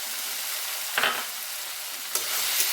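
Paste of dry-roasted ground spices frying in a pan for Dak Bungalow chicken, with a steady loud sizzle and two distinct stirring scrapes, close up and with no talking.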